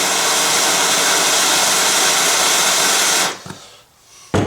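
A heat gun blasts a steady, loud hot-air roar while warming a screw on a Jeep Wrangler, running continuously for over three seconds before cutting off into a quieter tail with a brief click near the end.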